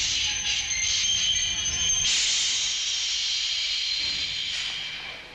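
Hungarian class 424 steam locomotive releasing steam: a loud, sustained hiss that surges sharply after two seconds, then slowly fades toward the end.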